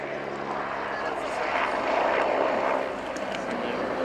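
A World War II Hurricane flies over the RIAT 2018 airshow at Fairford. Its engine makes a steady, broad propeller drone that swells gently midway and then eases off, heard from a distance.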